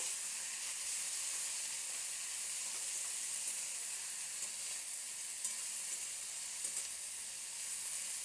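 Catla fish curry with potato, eggplant and onion simmers in a pan with a faint, even sizzling hiss, a few soft scrapes showing it being stirred.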